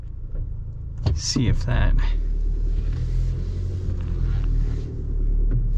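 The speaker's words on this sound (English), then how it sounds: "So we will reverse again, and I'll just put it in 4-wheel auto." A 2025 Chevy Colorado Trail Boss backing up, a low steady engine rumble throughout, up close from inside the cab, with someone speaking briefly over it.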